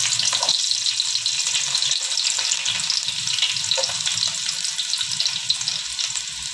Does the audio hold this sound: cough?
no